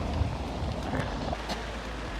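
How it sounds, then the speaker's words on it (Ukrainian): Heavy rain pours outdoors in a steady, dense broadband wash, with wind buffeting the microphone and a few faint louder spatters, no talking. "Дощ лиє."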